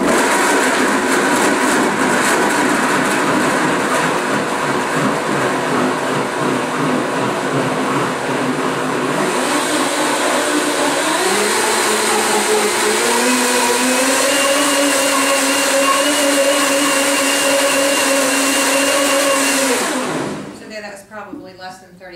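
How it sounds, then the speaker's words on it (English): A countertop blender purees tomatoes for a Maryland-style shrimp salsa soup, running loud and continuous close by for about twenty seconds, its pitch shifting and climbing partway through as the contents break down, before it cuts off. "all I'm going to do is quickly blend it. Like I said, it won't take very long on this blender."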